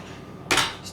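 A single bright metallic clink rings out as a utensil strikes a plate while pork chops and mashed potatoes are served, followed by a faint second tap against a quiet background.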